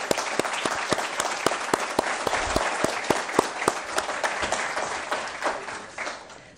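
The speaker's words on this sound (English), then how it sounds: "So why don't I just lead a round of applause to all of you supporters." Audience applause for supporters at a university aerospace engineering dean's society event, loud and sustained with sharp distinct claps standing out, tapering slightly near the end.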